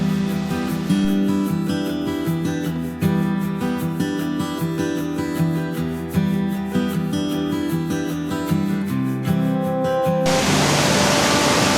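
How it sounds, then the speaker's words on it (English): Broad, steady roar of the Pistyll Rhaeadr waterfall rushing down rock, a constant dense wash of water noise that grows hissier near the end, heard alone with no voices. "So here we have the incredible, absolutely incredible Pistyll Rhaeadr Waterfall."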